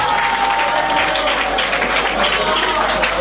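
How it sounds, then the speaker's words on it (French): An audience applauds at a National Assembly event honouring a parliamentarian: steady, dense clapping close and continuous throughout, with no pause. "Applaudissons pour l'honorable."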